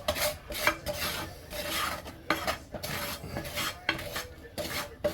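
A spoon scrapes the bottom of a pan of cooking flour for bacon gravy in a series of close, raspy strokes, quick irregular rubbing and scraping against the metal, with no talk.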